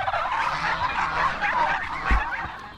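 Farm turkeys gobbling in a steady, fairly loud chorus of rapid warbling calls, several birds overlapping continuously with a brief low thump near the end.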